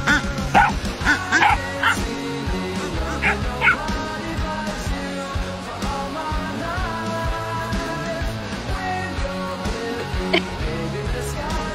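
A German Shepherd dog barks repeatedly in sharp bursts mixed with yips and whimpers, fairly close, over a musical backing.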